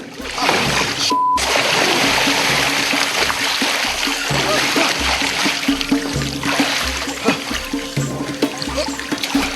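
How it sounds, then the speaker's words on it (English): Continuous rushing river water with splashes and paddling as rafts are rowed across a river, loud and close, with faint voices mixed in. "Rowing the rafts across the river proved to be harder than expected."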